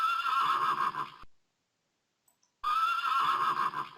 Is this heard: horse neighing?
yes